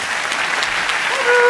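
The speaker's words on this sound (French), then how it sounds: "on peut l'applaudir" A theater audience at a comedy show breaks into a short burst of dense applause, steady and fairly loud throughout.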